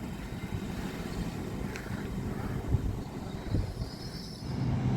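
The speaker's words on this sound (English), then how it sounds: "The 1620 LNER Azuma service from London King's Cross to York, 801223." An LNER Azuma train runs past at Grantham station, a steady broad rumble of wheels and rail noise with a few clanks and a faint whine, continuous and moderately close.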